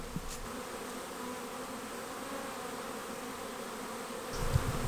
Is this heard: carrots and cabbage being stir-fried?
no